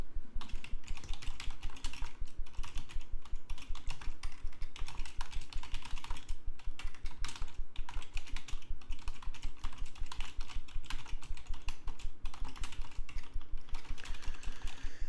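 Fast, steady touch typing on a computer keyboard, a dense run of close, crisp key clicks continuing without a break and with no voices.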